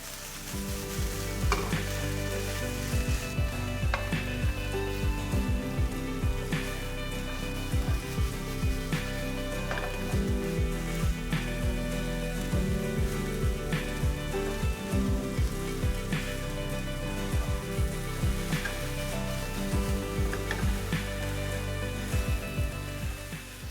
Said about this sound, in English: Tofu crumble. Saute for 5 to 7 minutes.